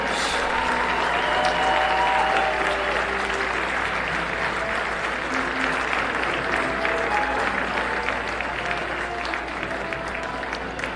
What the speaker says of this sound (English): Crown Point giving Center Grove a standing ovation and clapping as they got their awards